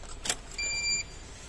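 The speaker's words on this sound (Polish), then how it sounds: "I słychać dźwięk czujnika." A Renault's reversing parking sensor gives a short, clear electronic beep, faint against quiet car-interior background, preceded by a brief click.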